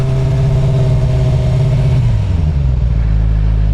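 A Suzuki GSX-R 600 motorcycle fitted with an M4 slip-on exhaust runs close by with a steady, throaty engine drone whose pitch dips slightly near the end. No one speaks.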